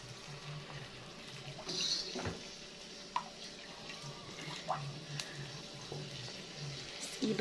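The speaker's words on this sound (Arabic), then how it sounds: "انا هسقيه بالشوربه، شوربه اللحمه اللي احنا عاملينها" Hot meat broth pours over rice for Egyptian fattah, a soft steady liquid trickle and splash with a few light clinks, close and fairly quiet.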